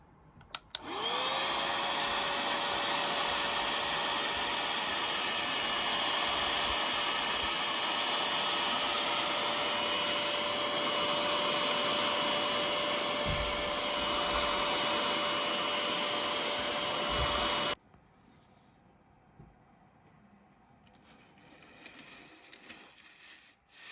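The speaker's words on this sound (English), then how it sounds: "to hoover, vacuum up any excess bits of ballast" A vacuum cleaner sucking up loose model railway ballast whirs loudly and steadily for most of the stretch with a high whine, then cuts off abruptly, leaving quiet room noise.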